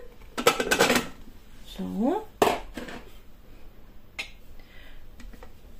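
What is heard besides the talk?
hanging steamer basket in, adding sweet potato pieces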